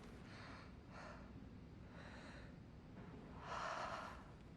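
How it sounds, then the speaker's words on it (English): The Doctor from Dead by Daylight breathes heavily in the game trailer, with several separate drawn breaths and snorting exhales that sound faint and close, the last one the loudest. "You can hear the doctor breathing as he walks up."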